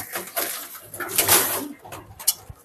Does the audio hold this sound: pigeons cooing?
yes